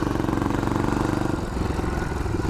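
A Yamaha XT500 motorcycle engine runs at full throttle, a loud, close single-cylinder thump with a fast, steady pulsing beat that holds strong and then eases slightly near the end.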